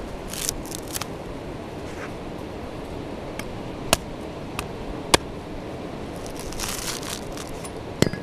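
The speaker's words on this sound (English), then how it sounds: "and then peel away the husk." Fibrous husk of a sprouting coconut being peeled away by hand and blade, quiet scratchy rustling with several sharp cracks and snaps scattered through it.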